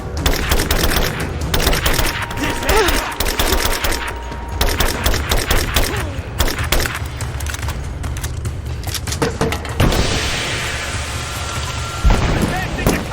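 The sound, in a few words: gunfire in a video game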